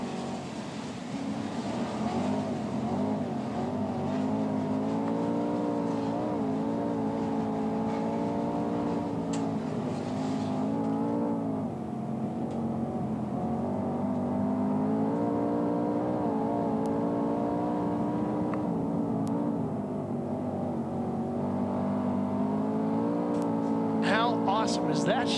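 Sprint cars running A-Main hot laps at the 1997 World of Outlaws Knoxville Nationals, heard from on board: a loud, continuous engine drone with shifting pitch, rising and falling throughout, under commentary voices.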